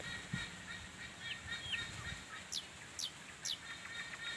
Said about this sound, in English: Wow, it's hornbill bird noise.